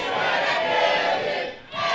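A wrestling arena crowd chants together against Gursinder Singh during his match with Eddie Ryan, a loud, sustained roar of many voices that dips briefly near the end and then surges back.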